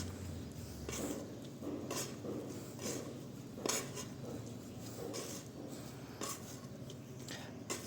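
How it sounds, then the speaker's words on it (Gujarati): Thick epoxy resin and hardener paste being stirred and scraped for tile work, giving a steady run of close scraping and clinking strokes with no talk. "તો આ ખાલી રેઝનિંગ આપણે ભેળવીને આવી રીતે કડક મસાલો બનાવી નાખ્યો છે."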